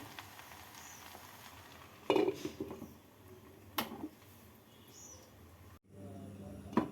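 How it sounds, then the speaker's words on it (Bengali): A pot of Odia khichuri simmers on a gas stove: soft sizzling, two sharp metallic clanks as the lid goes on, then an abrupt cut as the burner is switched off. "ঢাকা দিয়ে গ্যাসটাকে বন্ধ করে দিচ্ছি"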